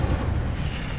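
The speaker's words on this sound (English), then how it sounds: "Incendio." The Incendio fire spell bursts in the Hogwarts video game, a short, heavy, booming whoosh of flame that hits loud and fades quickly.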